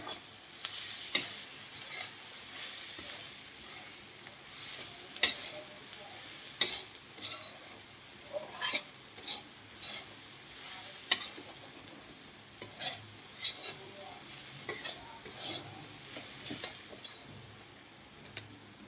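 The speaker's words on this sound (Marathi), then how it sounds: "व्यवस्थित मिक्स करून घ्यायचंय।" Bhakri chivda, broken pieces of flatbread, is stirred in a frying pan, giving faint dry sizzling under a series of sharp, irregular spoon-on-pan ticks and scrapes spread across the whole stretch.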